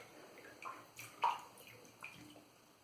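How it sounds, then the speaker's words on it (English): Water is added to lather in a 30mm Yaqi synthetic shaving brush loaded with Stirling Arkadia soap, making a few soft, close splashes and drips spaced about half a second apart. "Alright, I'm gonna add more water here."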